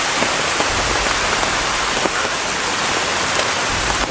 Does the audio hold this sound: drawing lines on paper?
no